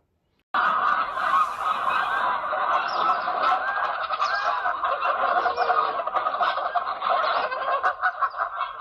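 A large flock of geese on a farm honks continuously and loudly, overlapping calls forming a constant chattering din throughout.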